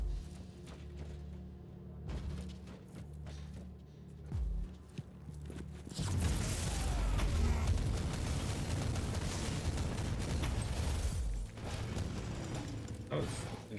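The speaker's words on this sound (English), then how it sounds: "The Marauder bombers are launching a second wave of bombardments." Bomber bombardment in Warhammer 40k Inquisitor: Martyr: a quiet rumbling stretch with scattered thuds, then a sustained loud roar of explosions from midway on, dense and continuous, under game background noise.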